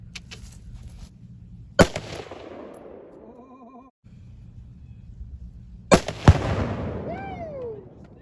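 Rifle shots crack sharply at an outdoor range, followed by a loud boom from an exploding four-pound bottle of tannerite, with echoing rumbles and brief whooshing trails between the blasts.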